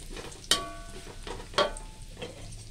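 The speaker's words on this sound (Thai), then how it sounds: "คั่วพริกจนหอมแล้ว" Chili pounded coarse and stir-fried in a pan for Thai basil tofu with egg, with sizzling and two sharp utensil scrapes against the pan, close and without talk.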